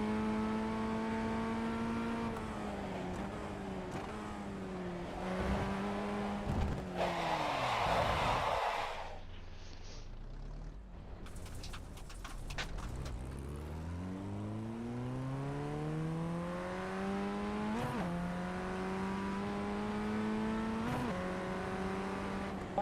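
Race car in iRacing, the engine note rising and falling through gear changes as the throttle opens and closes, with a brief lift and downshift midway before a strong rev climb, loud and steady with no talk over it.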